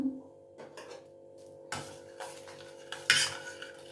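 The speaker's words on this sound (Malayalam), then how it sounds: "ഇതൂടെ ചേർത്ത് നന്നായി യോജിപ്പിക്കണം" Tender coconut pudding mix with sugar and agar powder is stirred in a pan, with soft scraping and clinks of a utensil against the pan, including one louder clatter, heard close up with no talking.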